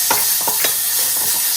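Dates fried in ghee for payasam, soft sizzling with several quick scraping stirs of a spoon close by, no voices.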